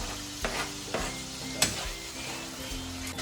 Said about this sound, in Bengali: বেশি ফ্রাই করতে হবে না, যাতে গার্লিক আর এটা যাতে একসাথে রান্না হয়